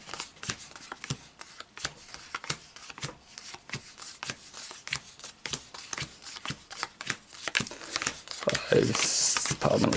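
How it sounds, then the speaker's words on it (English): A deck of Magic: The Gathering cards is shuffled by hand in quick, crisp bursts of riffling and sliding, close to the microphone, ending in a louder continuous flurry. "I like to shuffle a little bit, just to help with the initial shuffling"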